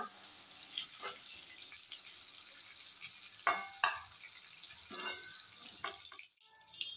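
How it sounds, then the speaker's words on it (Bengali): White oil heats in a karai (wok) after cauliflower is fried for a cauliflower roast, giving a steady, faint, close sizzle with a few sharper crackles and light stirring. "আমি কড়াইয়ে আরও কিছুটা সাদা তেল দিয়েছিলাম।"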